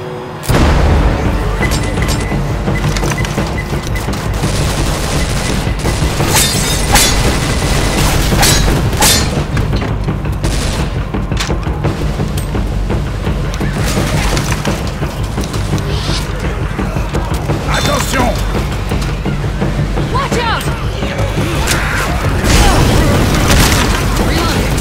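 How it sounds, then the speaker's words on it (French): Bomb explosions in the video game Left 4 Dead 2, with loud booming blasts layered over constant gunfire, music and chaotic game noise, while voices speak through it. "Lance une bombe!"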